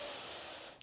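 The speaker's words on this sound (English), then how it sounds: "Breathing in through the nose" A single close inhale through the nose during a Pilates ab exercise, a soft steady airy breath lasting under a second with no talk.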